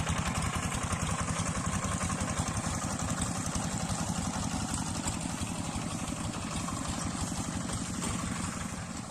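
A plough tractor engine idles in a steady, rapid chugging clatter, close and continuous, with no talk over it.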